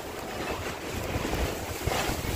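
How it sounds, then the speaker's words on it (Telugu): A strong, gusty storm wind blows outdoors around huts, making a continuous loud roaring rush that surges and buffets the microphone throughout. "బయట అసలు గాలి విపరీతంగా తోలుతుంది"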